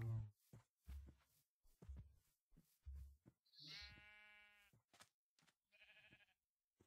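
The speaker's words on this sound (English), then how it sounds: "that sheep I just let go repopulated" Sheep in the video game Minecraft bleat a few times, with short wavering cries standing out among soft rhythmic thumps of game sounds, fairly quiet and alone without talk.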